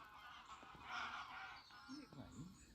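Geese honk a few times in the morning, fairly faint and at a distance, over a steady low outdoor hum, with no talking.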